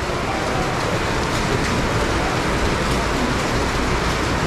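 Heavy rain and hail pour down in a Guadalajara storm, a dense, loud, unbroken hiss and patter that stays constant with no voices.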